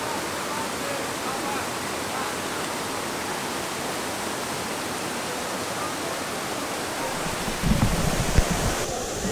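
Waterfall at Cachoeira do Mendanha in Rio de Janeiro, a steady close broadband roar of falling water that fills the whole clip, with a brief louder surge near the end.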